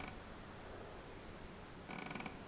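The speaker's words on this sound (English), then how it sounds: "It was the sound of hinges." Door hinges creak as a door swings open during a heavy rainstorm at night, a short rhythmic creaking burst near the end over steady loud rain noise.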